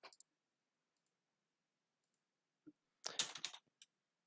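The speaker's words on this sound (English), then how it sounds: "Oh no, I hear typing." Short burst of typing on a computer keyboard, a quick cluster of clicks heard fairly close after a faint tap, with near silence before it.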